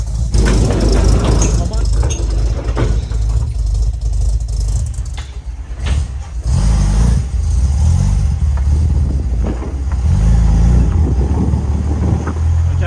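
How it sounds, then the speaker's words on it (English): Ford Cortina TE with a new exhaust pulls away from a shed, its engine a steady close rumble throughout, briefly easing around midway and then building again. "It's got a new exhaust on it, sounds pretty good."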